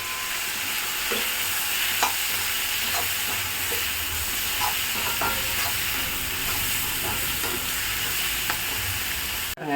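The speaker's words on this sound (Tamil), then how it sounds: "இந்த சட்னி எல்லாம் சேர்ந்து வதங்கின பிறகு" Sliced cucumber and onion sauté for a chutney in a hot pan, a steady close sizzle and hiss running throughout with occasional light scrapes and clicks of a spoon stirring.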